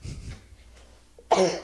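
A single sharp sneeze bursts out close by during a quiet pause at a tabletop role-playing game session, preceded by faint breathy murmurs.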